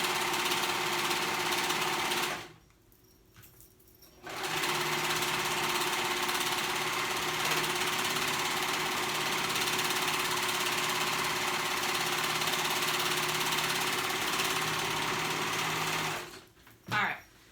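A serger sews a ruffle onto a skirt with a fast, steady mechanical whir that stops briefly, runs on again for a long stretch, then stops near the end.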